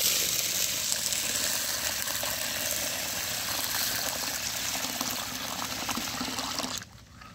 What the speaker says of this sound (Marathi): यामध्ये आता आपण पाणी घालून घेणार आहोत